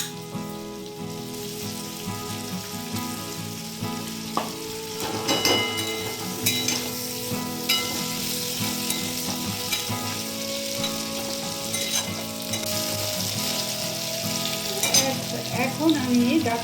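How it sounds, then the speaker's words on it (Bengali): Vegetable stems frying in a pan for khichuri, a steady close sizzle and crackle with occasional stirring clinks throughout, no voices. "ডাঁটা, এইগুলো আমি একটুখানি ভেজে নিচ্ছি, তারপরে আমি খিচুড়িতে মিশাবো।"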